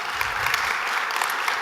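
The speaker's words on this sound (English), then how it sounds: "Let's give them a big round of applause" Audience applause at a church service welcoming guests to the stage, a steady wash of clapping hands filling the room without pause for a short stretch.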